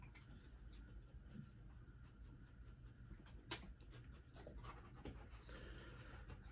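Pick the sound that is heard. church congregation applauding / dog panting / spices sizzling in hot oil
dog panting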